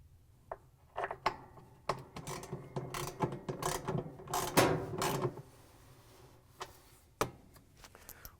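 A hand ratchet tightens bolts on a Frigidaire/Electrolux washer tub during a spin bearing replacement, giving close, sharp clicking bursts in short runs separated by pauses, with a denser stretch of rapid clicks midway.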